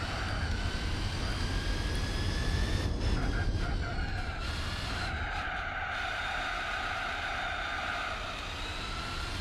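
Car tyres squeal on slippery sports tyres as a racing car struggles for grip in Gran Turismo 4, a sustained high whine layered over a loud, continuous engine roar with no talk.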